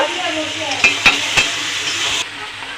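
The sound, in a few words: fried potatoes added and stir-fried with mutton curry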